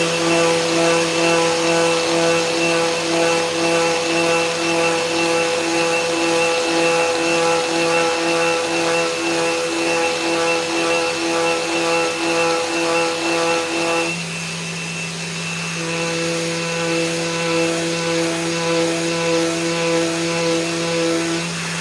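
A power sander works the corner of a wooden box in a woodworking shop, a loud steady whining drone that holds constant, shifts pitch slightly partway through, and runs on without talk.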